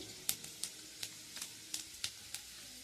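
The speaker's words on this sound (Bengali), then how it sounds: "আমি কড়াতে জিরে ফোড়ন দিয়ে দিচ্ছি" Cumin seeds sizzling in hot oil in a wok (kadai), a soft steady frying hiss punctuated by about ten faint sharp pops at irregular intervals.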